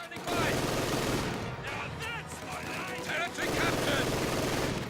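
Machine gun fire from an MG in a strategy video game, rapid bursts of gunfire that start abruptly, ease slightly, then swell again, with faint battle noise and a voice talking beneath.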